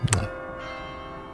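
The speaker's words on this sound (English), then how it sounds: "that bell means it's Christmas" One clear bell strike rings out loud and close, then its tone hangs and slowly fades.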